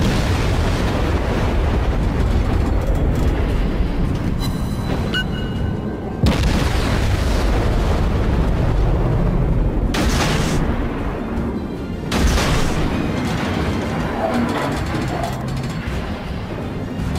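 Naval gunfire in a warship video game with an American destroyer, dense deep booms and rolling explosions that run almost continuously and loudly, with sharper blasts standing out at intervals.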